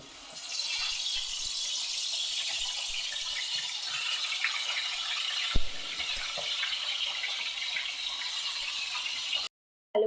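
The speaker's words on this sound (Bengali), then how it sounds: "এবার এই মাছটা এর মধ্যে তেলে ছেড়ে দেবো ভেজে নেবো" Tilapia fish rubbed with salt and turmeric sizzles steadily in hot oil, a loud continuous hissing sputter that holds throughout with one brief sharp pop midway, then cuts off near the end.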